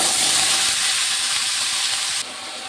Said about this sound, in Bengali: এবার আমি এই আলুগুলো ভেজে নেব।